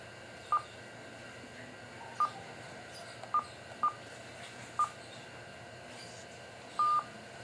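DTMF dialing tones from a mobile base radio fitted with a Larsen antenna: six short, clear beeps at uneven intervals over a faint steady hiss, with no talking.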